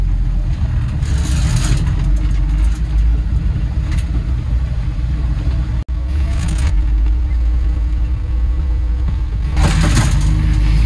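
A four-wheel-drive vehicle in high range with the emergency brake released pulls away, its engine a steady close drone under rushing wind and rumble, with a sharp click near the middle.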